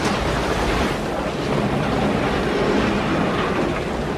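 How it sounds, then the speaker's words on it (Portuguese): Atlantic waves surge and crash along the Atlantic Ocean Road in Norway, a steady loud roar of surf with wind rumble and no voices. "as ondas atingem alturas que podem facilmente arrastar um carro que passe pela rodovia"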